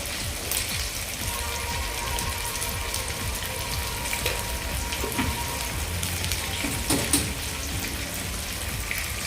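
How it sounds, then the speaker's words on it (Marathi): Pieces of rice-flour fare drop into an idli-style tempering of hot oil, which keeps up an even, hissing sizzle with scattered faint crackles throughout. "आपण इडलीला जशी फोडणी देतो ना तशीच ही फोडणी घालते."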